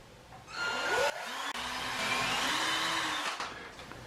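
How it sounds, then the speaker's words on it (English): A power drill pre-drilling a hole for a lighted mirror bracket whirs up and runs with a steady high whine for a few seconds, briefly dipping once, then winds down. "Okay, I'm going to pre-drill a hole."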